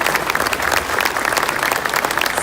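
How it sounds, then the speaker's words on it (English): An audience applauds educators and students at an evening school awards ceremony, with steady, dense clapping that holds at an even level throughout. "how about a round of applause for all of our educators and students here"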